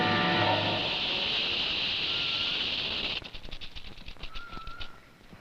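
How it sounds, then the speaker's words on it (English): A rattlesnake's dry, sustained buzzing rattle runs steadily for about three seconds, then breaks into a faster, stuttering series of rattling bursts. "This country is full of rattlers,"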